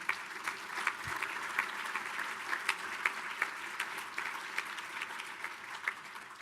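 Applause from a conference audience for people standing around the room, a moderate, continuous patter of many hands with a loose rhythmic pulse of louder claps throughout.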